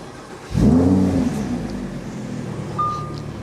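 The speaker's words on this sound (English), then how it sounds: "Lovely sound of that V10 waking up" A 2016 Lamborghini Huracán Spyder V10 engine cranks and fires up with a quick rising revving roar, then settles into a steady idle rumble nearby.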